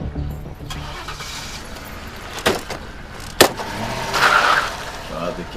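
A car engine cranks and starts amid movie street ambience, with two sharp knocks or door thuds before a brief rising engine roar.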